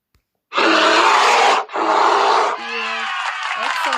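A bear roaring in a children's animal-sounds lesson: two long, loud, rough roars back to back, followed by a lower, steadier growling tail, heard alone without talk.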